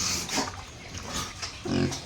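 A large pig in a pen munching feed gives off soft grunts and wet chewing noises, close and quiet, with a fuller snort near the end.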